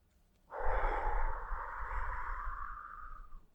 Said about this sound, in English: take a deep breath with me. Inhale. Exhale.